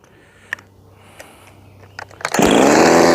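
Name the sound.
ported Jonsered 2152 chainsaw running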